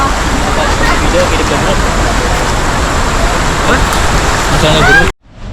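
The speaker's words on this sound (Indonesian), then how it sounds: "Jadi suaranya udah terdengar. Jadi itu tuh air terjunnya." The Menanggar waterfall in Kalimantan roars as a loud, continuous broadband rush of falling water heard up close, with faint voices underneath, before cutting off abruptly at the end.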